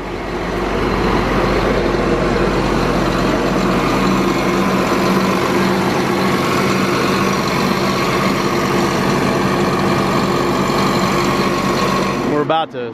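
A Tigercat LX830D forestry machine sits with its heavy engine idling, a loud steady rumble with a rattling mechanical texture that runs unbroken for the whole stretch and cuts off abruptly at the end.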